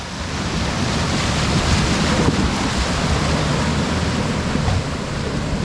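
Steady rushing, splashing roar of a Maruti Gypsy 4WD off-roader ploughing through water, broadband and continuous throughout, with wind noise buffeting the microphone.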